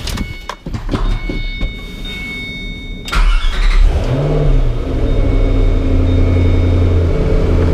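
A 2005 Ford GT's engine fires up after a few clicks and handling noises. It catches with a sharp burst, revs up briefly, then settles into a loud, steady idle that fills the rest of the stretch.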